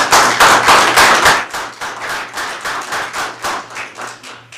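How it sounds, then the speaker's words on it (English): Scattered clapping from a small crowd at a city council swearing-in ceremony, loud and close at first, then thinning to a few distinct, rhythmic hand claps. "All right, round of applause, folks."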